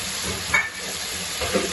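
Chicken meat cooks with kachnar in a pan, giving a steady close frying sizzle with faint stirring scrapes. No voices are heard.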